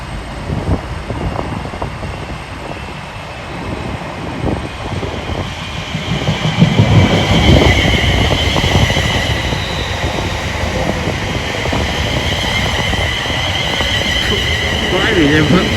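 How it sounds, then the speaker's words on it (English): A freight train rolls through a station, its steady rumble and rattling wagons filling the whole stretch at close range with a faint high squeal, while someone talks over the top. "the freight train's coming through at 12:20"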